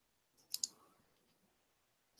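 A computer mouse gives a quick pair of sharp clicks, then a faint lone click at the end, close and quiet in an otherwise silent room.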